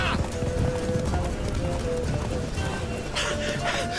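Roach, the horse in The Witcher 3, gallops with a rapid, rhythmic clip-clop of hooves, loud and close, mixed with game ambience and a brief whinny-like burst near the end.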